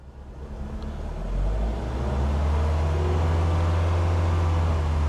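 A Toyota Altezza's 3SGE engine fitted with individual throttle bodies hums low at idle, then rises into a louder, steady drone as the accelerator is gently pressed, heard up close with no speech.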